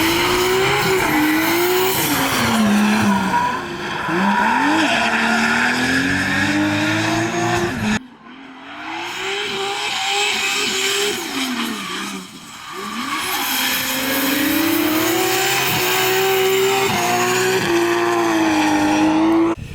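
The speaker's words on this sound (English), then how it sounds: "Now it's finally time to jump behind the steering wheel of that car and do some laps." A 2024 Toyota Supra drift car roars through laps, its engine revving up and down steadily while the tires squeal in long sustained screeches, loud and close, with a brief lull partway through.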